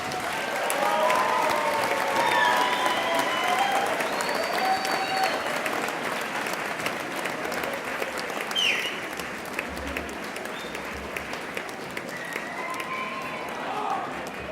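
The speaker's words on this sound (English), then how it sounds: "join me in a round of applause to say thank you" A graduation ceremony audience of families and friends claps in sustained, dense applause that fills the hall from start to finish, with a few louder cheers and whoops rising above it.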